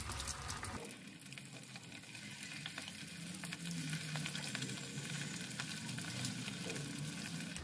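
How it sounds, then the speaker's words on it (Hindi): Chicken pieces for chicken Manchurian frying in hot oil, a steady dense sizzle that starts abruptly after a brief quiet moment and continues loudly and evenly throughout, with no talking. "और सेकेंड बैच भी हम डाल दे रहे हैं ताकि ये भी अच्छे से फ्राई हो जाए।"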